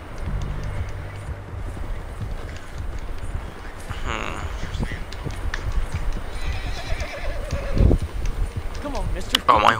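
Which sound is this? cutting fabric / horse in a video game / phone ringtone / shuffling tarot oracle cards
horse in a video game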